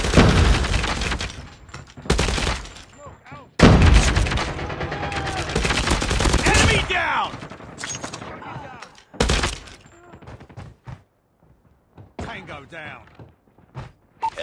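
Gunfire in the Call of Duty Mobile video game, loud bursts of automatic shots and impacts in clustered volleys with short gaps, mixed with in-game voice callouts.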